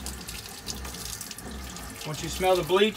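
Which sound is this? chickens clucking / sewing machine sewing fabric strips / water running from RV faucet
water running from RV faucet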